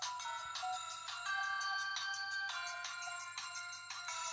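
A phone ringtone plays steadily throughout at a workbench during a PS4 Slim repair for a blinking blue light fault, a bright repeating electronic melody with regular pulses, fairly close and alone without speech.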